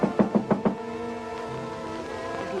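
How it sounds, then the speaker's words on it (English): Four quick, evenly spaced knocks on a door at the start, loud and close, followed by a sustained musical tone that continues to the end. "Isn't someone knocking?"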